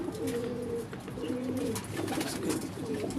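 Pigeons coo in a steady run of low, rolling calls that repeat several times at close range, with faint background noise and no talking.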